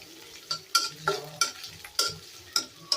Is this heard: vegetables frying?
yes